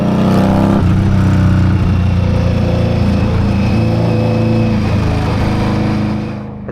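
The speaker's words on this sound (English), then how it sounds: "I can switch over to the exhaust sound" Loud, steady motorcycle exhaust note captured close by an action camera, a continuous mid-pitched engine drone holding for several seconds before easing off at the end, with no voices.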